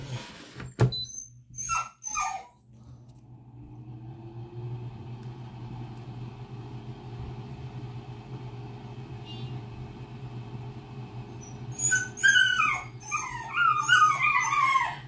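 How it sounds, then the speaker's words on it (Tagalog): Dogs whimper and cry for their absent mother, a series of high whiny yelps near the mic at the start and end, over a steady low engine-like hum. "Nag-iiyakan ang aking mga aso dahil yung nanay nila, ayun, iniwanan na naman po sila."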